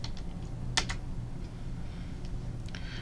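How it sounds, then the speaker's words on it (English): Fingers tap out a short command on a computer keyboard: a brisk run of close, crisp key clicks over a steady low background hum, with no voices. "type exit."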